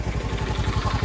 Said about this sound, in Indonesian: Nah, itu malah ada motor masuk ke situ.